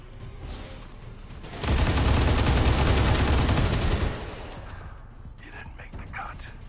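A loud, sustained burst of automatic gunfire in the video game XCOM 2 lasts a few seconds, with quieter game effects before and after it.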